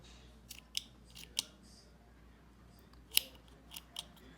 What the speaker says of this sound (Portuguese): Minha tesoura tá dando uma mascada